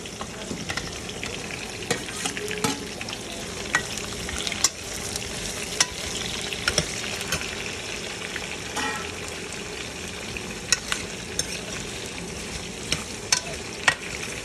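Garlic, ginger and onion frying in a pan for butter chicken, a steady close sizzle with frequent sharp spatters and occasional stirring clicks, no talking.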